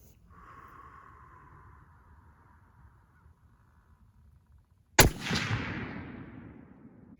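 A single sharp, loud rifle shot rings out while a sight is being zeroed, with a rolling echo trailing off. A crow caws faintly in the distance beforehand.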